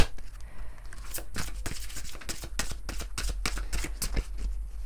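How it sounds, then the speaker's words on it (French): Oracle cards from a Mary Magdalene deck being shuffled by hand: a close, steady run of crisp riffling flicks and slaps lasting several seconds, with no talking. "j'ai envie de prendre une carte de l'oracle de Marie-Madeleine"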